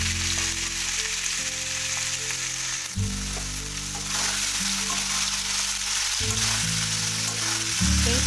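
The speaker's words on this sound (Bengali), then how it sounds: "ওই একই তেলে এবার আমি সোয়াবিন আর আলু ভেজে নেব।" Soya chunks and potatoes frying in hot oil give a dense, continuous sizzle with a low humming tone underneath, close up and fairly loud throughout, without any speech.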